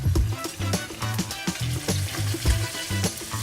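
Meatballs fry in a pan with a steady sizzle and spatter, broken by soft clicks and scrapes as they are stirred and turned.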